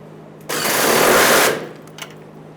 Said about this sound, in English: Let's go ahead and tighten down that rear strap